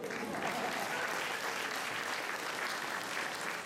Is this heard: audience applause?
yes